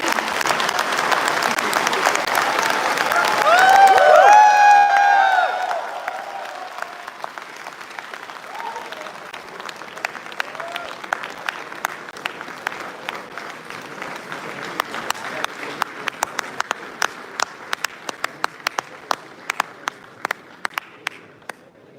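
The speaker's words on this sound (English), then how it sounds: "With a huge round of applause, let's welcome amongst us the Honorable Union Minister of Road Transport and Highways of India, Shri Nitin Gadkari" An audience at the IIT Delhi inauguration ceremony breaks into loud, dense applause for an arriving minister while a voice speaks over it, then the clapping thins to scattered individual claps that taper off.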